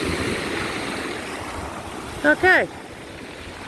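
Atlantic Ocean waves washing steadily against the shore around wading legs, a continuous broad rush with a brief spoken word partway through.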